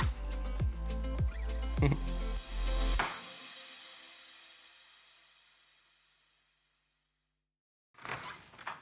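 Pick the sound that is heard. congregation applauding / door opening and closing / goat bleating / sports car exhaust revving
door opening and closing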